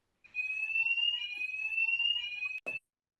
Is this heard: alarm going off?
yes